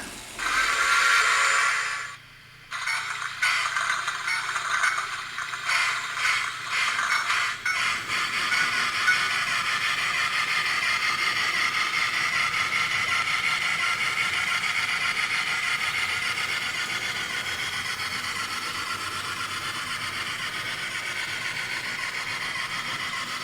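An N scale model train locomotive running on a layout, giving a faint, continuous mechanical hum with light rattles, steady under a broad hiss after some early handling noises.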